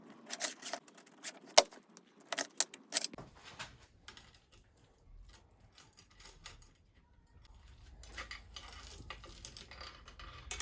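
Light metallic clinks and jangles of a new 7-speed MTB chain being handled and assembled, close and intermittent, with scattered small rattles and taps.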